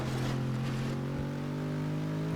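A modded car in Test Drive Unlimited 2, fitted with the Mustang V6 Premium engine sound, drones at a steady, even hum with a clear tonal whine and no voices over it.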